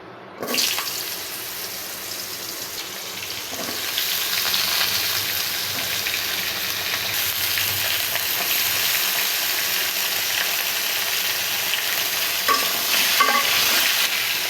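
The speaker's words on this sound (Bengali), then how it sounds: "এখন আমি তেলের ওপরে আগে থেকে ধুয়ে রাখা তরকারিগুলো দিয়ে দিব" Washed vegetables go into hot oil in a pan used to fry rohu fish, setting off a loud, continuous sizzle that swells after a few seconds and keeps crackling with occasional stirring clatter.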